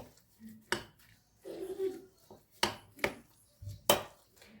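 A spoon stirs tomato and pepper paste in a bowl for lahmacun topping, giving a few sharp, close clinks and scrapes against the bowl with quieter mixing sounds between them.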